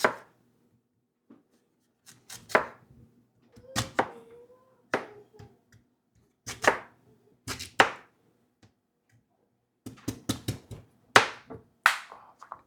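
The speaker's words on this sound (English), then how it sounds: "we're just gonna cut the ends here off the sweet potato." A knife chops through sweet potatoes on a cutting board, sharp knocks coming singly and in quick clusters with quiet pauses between, close and clear.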